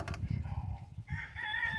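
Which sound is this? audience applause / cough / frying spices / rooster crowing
rooster crowing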